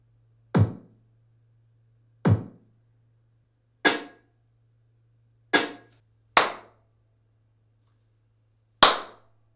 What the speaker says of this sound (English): I'm going to play a recorded kick, a recorded snare, both are very EDM and punchy-like, and the third one will be a physical clap